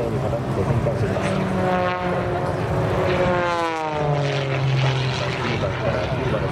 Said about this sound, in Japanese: ギリギリまで傾けていた機体を水平に戻して、そして7番ゲートを通過した後、またまた綺麗に傾けて展開しています